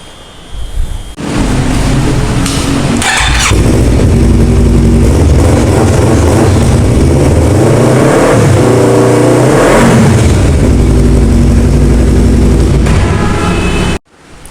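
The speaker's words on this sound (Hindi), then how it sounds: "and I am just gonna show you कि ये साउंड किस तरह करेगा विद द DB किलर" An exhaust fitted with a dB killer revs loudly and close up, rising and falling through several throttle blips in a sustained, throaty roar before cutting off abruptly.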